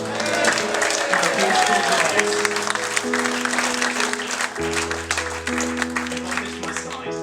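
Wedding guests applaud the newlyweds with steady clapping from a crowd, heard under sustained music throughout.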